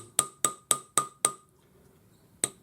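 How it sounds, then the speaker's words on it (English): Jeweler's hammer striking a ring on a steel block to texture it: five sharp metallic taps in a quick even rhythm, a pause, then one more tap, close and clear with no talk. "just by putting it on my steel block and using my jeweler's hammer"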